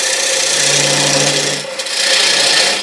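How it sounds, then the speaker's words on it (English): A dovetail tool cuts into wood turning on a lathe while shaping a paten. It makes a steady, loud scraping rasp with a short dip partway through, then carries on, with no talking. "we're going to use the same dovetail tool we used not too long ago"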